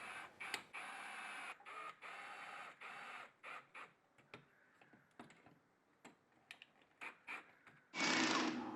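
Screws being driven to tighten a waterproof outdoor electrical receptacle cover, heard as close, quiet bursts of mechanical whirring and ticking, stopping and starting repeatedly, ending with a louder harsh burst.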